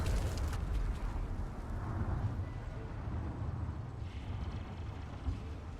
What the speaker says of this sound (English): So we got him with a grenade, which is good.